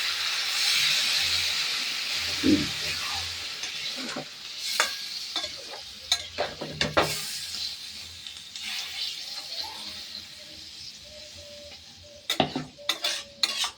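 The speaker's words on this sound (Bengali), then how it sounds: "এবারে মাংসটা কষা হয়ে গেল" Meat sautéed and stirred in a pan for kosha, a steady broad sizzle with a spatula scraping and clacking against the pan, loudest at the start and easing off later, with sharper clinks near the end.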